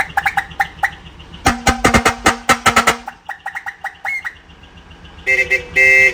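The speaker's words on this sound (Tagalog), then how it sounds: "Andy, busina muna tayo yung Wolf horn, fire air horn, tsaka yung Bosch horn." A series of loud, harsh air horn blasts from a decorated truck, several short honks then a long sustained burst, followed by higher-pitched electric horn toots from a Bosch horn, close by.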